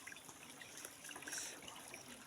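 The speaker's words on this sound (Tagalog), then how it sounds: "Tubig." Water trickles faintly and steadily while a group of ghost hunters climbs a hill, with no voices during the sound.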